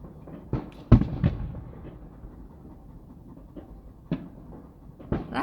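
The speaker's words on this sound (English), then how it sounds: "It's dueling fireworks" Fireworks burst at a distance in a private neighborhood show, with several sharp, scattered booms and crackles spaced out over quiet background noise.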